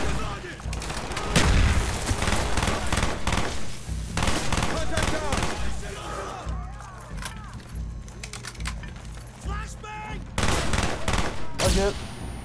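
Gunfire rattles through a Call of Duty: Black Ops rooftop campaign mission, bursts of rapid automatic shots and heavier bangs coming in clusters with pauses between, while voices call out among the shooting.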